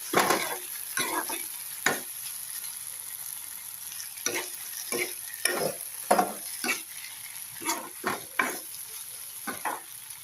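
Long beans fry in a pan in an Assamese home kitchen, a steady close sizzle broken by about a dozen sharp scraping stirs at irregular intervals, with no talk.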